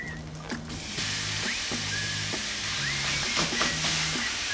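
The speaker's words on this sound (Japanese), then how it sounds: "玉ねぎと人参が炒まったら、ここにひき肉を入れていきます" Ground meat frying with onions and carrots in a small pan, a steady loud sizzle with a spatula scraping and knocking against the pan in a repeated rhythm, no talking.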